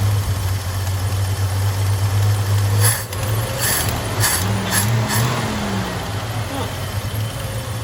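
A Chevy square body truck engine idles steadily with a low, even hum, briefly dipping in pitch partway through, a few short clicks above it and a voice in the background.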